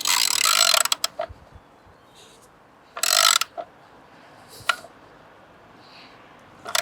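A ratchet wrench tightening the battery clamp on a 2015 Mercedes-Benz C200, giving close, sharp bursts of rapid clicking at the start and again around the middle, separated by quieter metallic handling sounds.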